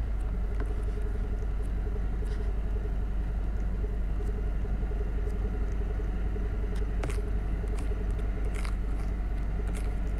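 Steady low rumble of a car engine in the Roblox game Bloxburg, a continuous drone held throughout with faint scattered clicks on top and no talking.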